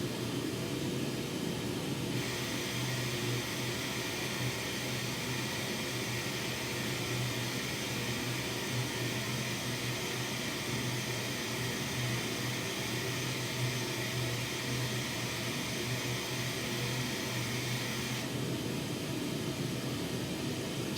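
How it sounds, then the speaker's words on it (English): A steady pink noise test signal plays through a loudspeaker during a system measurement without a custom filter. It is a constant broadband hiss that holds for about sixteen seconds, with quieter room noise before and after and no talking. "do I like the sound of this pink noise?"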